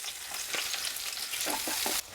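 Chopped onion and green chili crackle and sizzle in hot ghee in a pan, a steady loud frying hiss with a few stirring scrapes near the end, no voices.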